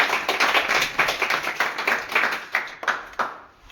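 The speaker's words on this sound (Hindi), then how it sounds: "आइए बाबू, तालियां हो जाए" A small group claps in a classroom awards moment for a half-yearly exam topper, with quick, uneven hand claps that pulse in loose bursts and thin out toward the end.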